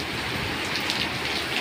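Heavy rain pours steadily in Jeddah, a dense continuous hiss of drops drumming on surfaces, close and fairly loud with no voices.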